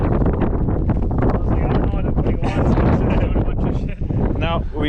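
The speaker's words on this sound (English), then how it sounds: "get out of this wind" Strong wind blows outdoors and buffets the microphone with a constant loud low rumble. It comes beside a 10th-gen Honda Civic Si getting a race exhaust and front pipe, and a person talks underneath.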